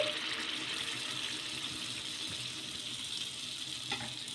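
Corn batter sizzling on a hot oiled pan, a soft continuous hiss with faint crackle and a few light clinks, steady and fairly quiet.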